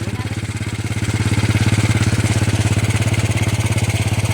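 A saleng motor tricycle's small engine runs steadily and close by, its low putter pulsing at an even rhythm throughout and swelling slightly partway through.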